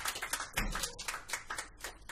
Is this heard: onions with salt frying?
no